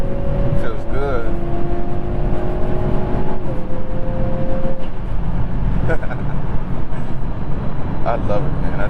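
A 2021 Hyundai Veloster N with a dual-clutch transmission drives along, its engine note stepping through downshifts as revs rise and fall under steady road and cabin noise, with someone talking over it.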